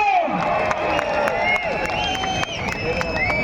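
A dense crowd at a BC Garjana rally claps and cheers steadily for the whole stretch, a loud close wash of applause with voices and a sung or musical line running underneath.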